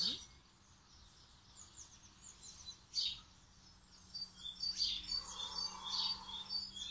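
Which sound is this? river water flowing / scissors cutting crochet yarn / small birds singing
small birds singing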